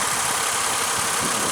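A 2002 Honda Accord's 3.0-liter VTEC V6 idles steadily, a smooth, even engine hum with bright hiss on top and no voices.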